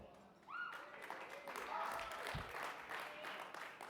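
Applause from a conference audience swells after a brief spoken moment and continues steadily, a broad wash of clapping from a sizable crowd.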